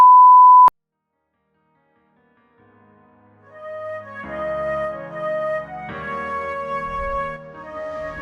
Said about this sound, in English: Cue the beep.